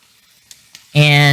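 Kimchi fried rice hits a hot pan and breaks into a loud, steady sizzle, following a second of near quiet with two faint taps.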